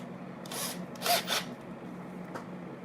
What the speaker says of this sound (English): So what I'm doing here is I'm pre-drilling with a 2mm bit.